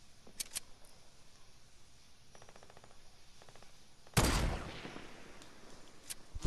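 Gunfire in Fortnite Battle Royale during a blue-weapons-only challenge: a few sharp distant shots early, faint rapid ticking bursts, then one loud close blast with a trailing roar, and a couple more quick cracks at the end.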